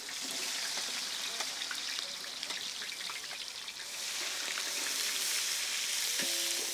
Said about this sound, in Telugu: ఉల్లిపాయలు నూనెలో వేగుతున్నప్పుడే